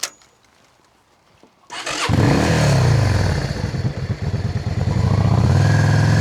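A motorcycle engine cranks and fires after a couple of quiet seconds, catching with a loud clattering burst, then settling into a close, throbbing idle with a brief rev.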